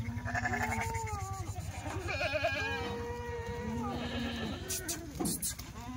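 Kathiawari sheep at a livestock sale bleat several times in quick succession, close and loud, with overlapping calls from the flock and a little background talk.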